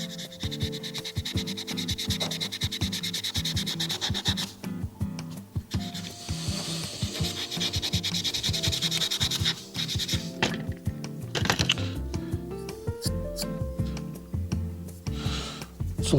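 A blade is rubbed back and forth on a whetstone in steady, close scraping strokes. A faint tonal hum sits beneath them.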